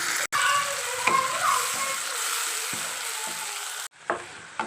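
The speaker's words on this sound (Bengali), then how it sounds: "বেটে রাখা পেঁয়াজটাকে আমি আরও কিছুক্ষণ ভেজে নেব।" Onion and tomato paste frying in a pan for a prawn gravy, a steady close sizzle broken by brief stirring scrapes and a short pause near the end, with no talking.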